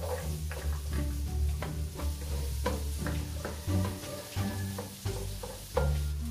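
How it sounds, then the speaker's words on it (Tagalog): Ingredients being sautéed in a pan for creamy carbonara, a continuous low sizzle with repeated scraping and stirring knocks from a utensil. "sunod is, kining duha, higisa na to"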